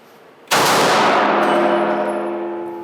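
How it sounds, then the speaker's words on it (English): A handgun fires in a trigger drill, giving one loud, close, sharp blast with a long ringing decay, and the second shot is not clearly separated. "we're going to extend the gun, prep the trigger in motion, we're going to fire two"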